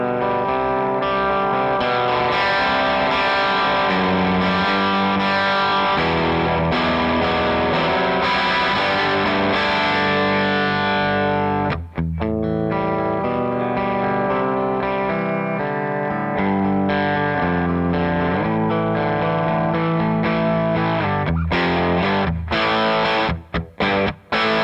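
An electric guitar with Throbak pickups plays through an amp set on the edge of breakup, giving a gritty, lightly distorted tone with sustained chords and picked notes ringing continuously, with brief pauses near the end.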